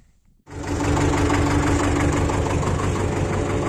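A tractor engine starts up after a short near silence and settles into a loud, steady, slightly knocking idle at close range, just before it tows a homemade pumpkin harvester.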